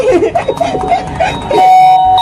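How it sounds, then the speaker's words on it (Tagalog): An electronic doorbell chime plays close and loud, with a sustained tone ringing out near the end; a voice is faintly mixed in early on. "Tumutunog yung doorbell?"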